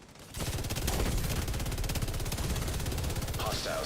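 Rapid, close gunfire rattles in a video game as a long continuous burst of tightly spaced shots, with a voice faintly beneath.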